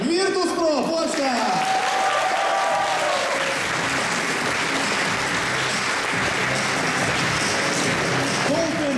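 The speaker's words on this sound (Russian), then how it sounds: "Ваши аплодисменты" An audience at an esports award ceremony applauds in a loud, sustained wave of clapping. An announcer's voice rises over the opening moments before the clapping carries on alone.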